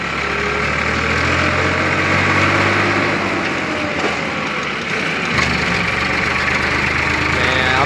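A tractor loader's engine idles steadily and loudly close by, a continuous rumbling drone with no voices.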